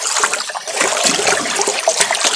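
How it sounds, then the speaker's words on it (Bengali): Rice polish worked by hand into a wet pond-feed mixture for freshwater prawn farming, a close, steady wet squelching and sloshing with trickling water, continuous and fairly loud, no voices. "রাইস পালিশটাও এই মিশ্রণের সাথে ভালো করে হাত দিয়ে নেড়ে আমি মিক্সড করে দিচ্ছি।"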